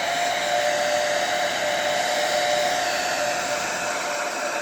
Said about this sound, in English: Let's just use a hairdryer